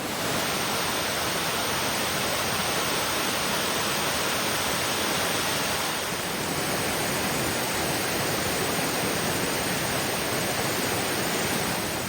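A mountain river at Cedar Run Falls, Virginia, rushes in a loud, constant broadband roar of churning water, close by and unbroken, with no voices.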